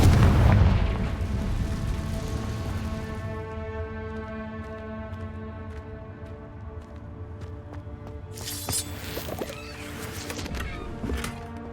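A Confringo fire spell explodes in the Hogwarts Legacy video game, opening with a heavy booming blast that fades under sustained musical tones, then crackling bursts flare up near the end.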